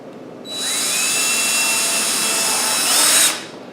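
A power drill whirs steadily at high speed for about three seconds, close by, rising slightly in pitch just before it stops.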